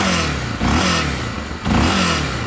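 A new Honda XRE 300 motorcycle engine is revved twice, each time surging up in pitch and falling back, loud and close over a rough idle clatter, with no voices.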